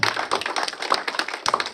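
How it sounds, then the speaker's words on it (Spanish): Audience applause at a church service for a sister's birthday, a quick spread of clapping heard up close in a short burst with no talking. "démosle un aplauso a mi hermana Belén"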